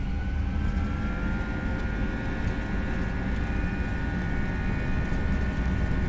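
Airbus A320 jet engines spooling at takeoff thrust in a flight simulator, a steady loud broadband roar with a rising high whine layered on top, continuous and alone throughout.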